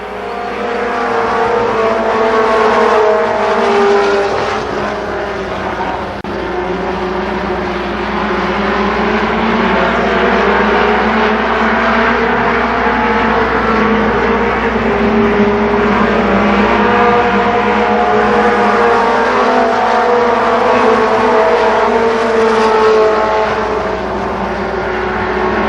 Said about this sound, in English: So the first mini stock heat race,